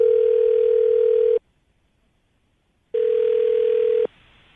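A telephone line on a call-in radio show gives two long steady ringback tones separated by a pause of silence, loud and clean, with no voices.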